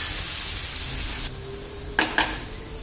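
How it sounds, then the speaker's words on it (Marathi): Finely chopped onion sautés in a pan for a thin fenugreek leaf curry, a loud steady hiss that suddenly drops away, then two quick scraping strokes of a spatula against the pan. "कांदा परतून घेऊया."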